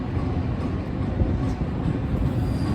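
A train rolls along rails near a rail yard, a steady low rumble of wheels and cars passing close by, continuous and unbroken with no voices.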